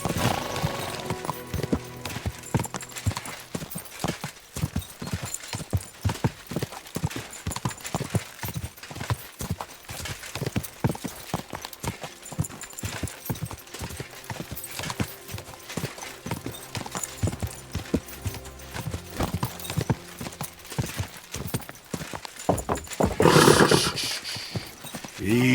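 Steady clip-clop of horse hooves at a walking pace in Kingdom Come: Deliverance II, fairly close, continuing throughout with a brief louder burst near the end.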